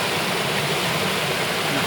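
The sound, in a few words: mountain stream water flowing in páramo near Bogotá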